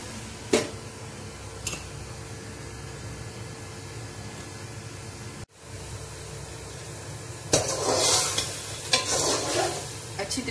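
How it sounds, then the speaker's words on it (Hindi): Spicy masala for a Punjabi arbi dish stirred and fried in a pan: a steady close sizzle throughout, with occasional spoon scrapes and a louder, busier frying burst toward the end, no talk. "अच्छी तरीके से मैं इस मसाले को भुनाई करूंगी"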